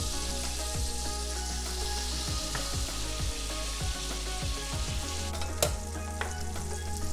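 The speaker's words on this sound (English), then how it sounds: "You want to hear that nice sizzle." Fettuccine sizzles loudly in a hot pan of melted butter, a constant crackle broken by regular scraping and stirring knocks, close up with no talking.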